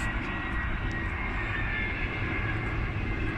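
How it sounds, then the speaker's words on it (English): An easyJet Airbus A319 passenger jet passing overhead at Heald Green makes a loud, continuous engine roar that holds steady throughout. "We can have a plane. There it is."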